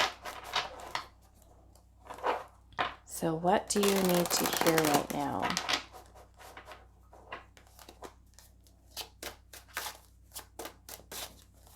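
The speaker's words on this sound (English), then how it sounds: "let's give these a quick shuffle" A burst of tarot card shuffling, a few seconds of rapid riffling and flapping, with a person speaking before and after.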